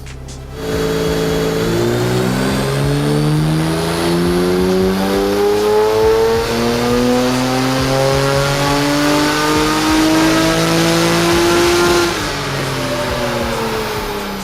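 Custom-restored Porsche 911 964 flat-six on a dyno during its final tune, a loud sustained pull with the engine note rising steadily through the revs for about eleven seconds before easing off, close and continuous.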